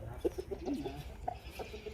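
Farm fowl calls from a pricey breeding rooster, short clucks and cackling notes scattered across two seconds, moderately close but fairly quiet, with no talking.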